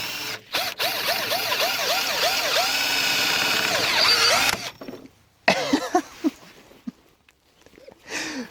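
A power drill whines steadily into a workpiece in a cold outdoor setting for about four seconds, then cuts off abruptly as the bit snaps. A few sharp knocks and clatters follow in near silence.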